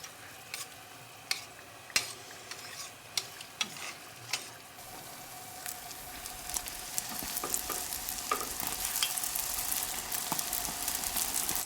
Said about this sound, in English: You know your fried pizza dough is ready when it starts getting fluffy and airy and starts puffing up before your eyes